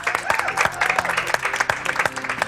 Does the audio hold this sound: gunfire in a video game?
no